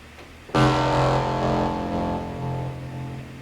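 A distorted, buzzy bass synth note made in Logic Pro kicks in abruptly and sustains, its harmonics pulsing with a slow, choppy square-wave wobble.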